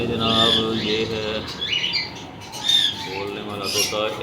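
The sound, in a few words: talking parrot squawking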